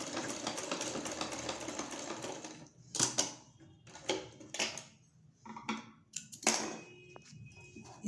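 A sewing machine stitches the corner of a front-open jacket-style kurti, running in a steady whir at first, then in short separate bursts with pauses as the fabric is turned.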